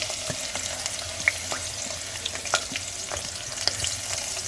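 Chopped onions sizzle in hot oil for a mutton khara masala curry, giving a steady close frying hiss with scattered small pops and stirring scrapes, no voices.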